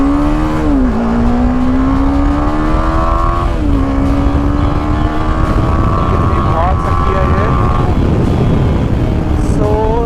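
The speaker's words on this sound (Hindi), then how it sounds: "मैं इसको फर्स्ट गियर में लेकर जा रहा हूँ और मैं फर्स्ट गियर में आपको टॉप गियर स्पीड दिखा देता हूँ।" A BMW G 310 GS motorcycle accelerates through the gears, its loud, buzzing engine note rising repeatedly with several quick shifts dropping the pitch, over constant wind rush.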